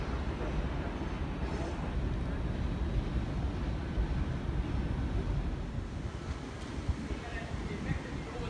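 A 16-carriage Sydney Trains V set of paired cars departing a platform on a Lithgow service, a continuous broad low rumble and wind-like roar with muffled speech-like noise mixed in.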